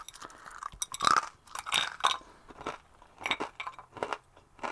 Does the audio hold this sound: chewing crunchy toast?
yes